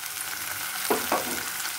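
Onion and capsicum frying in a pan over low heat for paneer bhurji, a steady soft sizzle with two brief stirring scrapes near the middle, close and alone.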